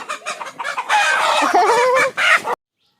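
Several large young hens, not yet laying, cluck and squawk loudly up close in a busy, overlapping chorus that ends abruptly.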